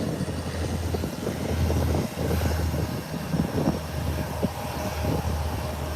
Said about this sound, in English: Hear the sound of those Brasilia engines.